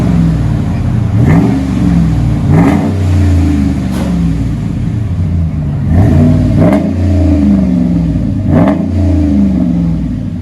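A RAM 1500 pickup's 5.7L HEMI V8 with a Flowmaster exhaust revs repeatedly and loudly up close, each throttle blip rising and falling over a deep, steady burbling idle, with no talking.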